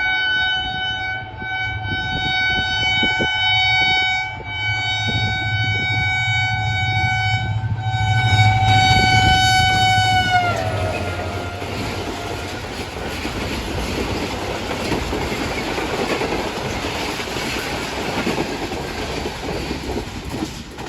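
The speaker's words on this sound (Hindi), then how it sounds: "Karakoram express JMU 30R 82-24 minute पर और बहुत ही ज़बरदस्त रफ्तार में गुजरी है गदर रेलवे स्टेशन से।" Karakoram Express passenger train rushing through Gadar railway station at high speed, a long loud horn blast for about ten seconds giving way to a steady roar and rumble of coaches rolling past close by, no voices.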